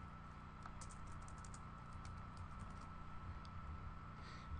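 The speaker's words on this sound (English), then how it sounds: "we're gonna type in finale." Computer keyboard being typed on, with a quick cluster of light, close key clicks over a faint background hum. A few scattered taps follow.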